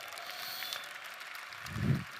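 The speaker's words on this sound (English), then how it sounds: "you can clap for that." Soft, distant audience applause at a business growth conference, a thin continuous patter of clapping with a low thump near the end.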